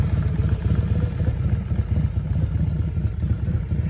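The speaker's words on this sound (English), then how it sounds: "Motorcycles not starting." A motorcycle engine runs at a steady low idle with a throbbing, clattering rumble, close and continuous throughout.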